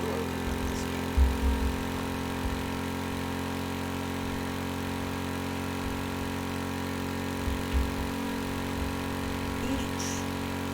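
Engine idles steadily in the Stormworks game as a constant low mechanical hum with layered tonal drones, broken only by a few soft thumps.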